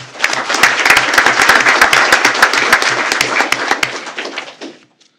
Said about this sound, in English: How about a big round of applause for Ms. Jill Brown?